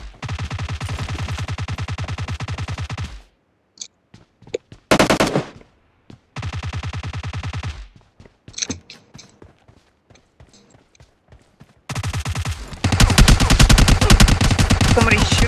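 Automatic gunfire in PUBG Mobile comes in long rapid bursts with pauses between them. Scattered single shots and footsteps fill the quieter stretches before another heavy burst at the end.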